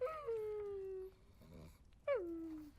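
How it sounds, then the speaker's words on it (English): A dog in a web series whimpers and whines in long, high, falling cries, two drawn-out whines with a softer snuffling sound between them, fairly close and without talking. "A doggy."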